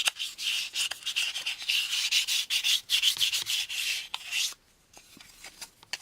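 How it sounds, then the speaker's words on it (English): Fine sandpaper rubbed back and forth on the plastic gluing surfaces of a 1983 AMT U.S.S. Enterprise model kit part, in close, rapid, steady strokes that stop abruptly near the end. "I'm using my fine sandpaper side, and I'm just sanding down here."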